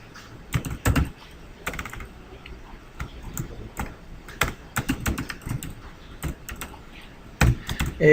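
Sharp clicks from a computer keyboard arrive in small irregular bursts, keys pressed close to the mic with short pauses between strokes, no talking.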